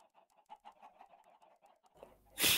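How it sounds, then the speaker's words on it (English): Chickens in the video game Minecraft cluck in a steady run of short, soft, repeated calls, ending in a sudden loud burst. "Look how much the chickens love me."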